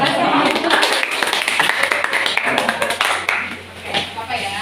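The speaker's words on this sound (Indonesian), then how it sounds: "tepuk tangan dulu untuk semua" A vocational high school class group of culinary students claps for their role-play, scattered hands clapping in a brisk patter mixed with voices and chatter in a classroom.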